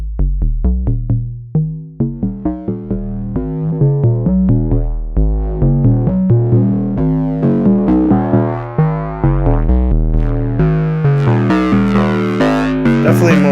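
Roland System-500 505 dual filter synth sequence with drive added, a rhythmic pulsing pattern of distorted notes whose tone sweeps gradually brighter and harsher, played loud and alone.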